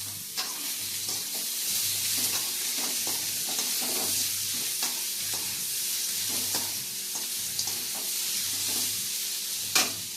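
Beetroot, onion and tomato sautéing in a pan: a loud, continuous sizzle runs throughout, broken by frequent scraping stir strokes at an irregular pace, with no talking.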